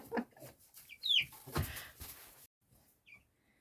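A few soft, scattered clucks from chickens nearby, quiet and irregular, with faint background noise and short pauses.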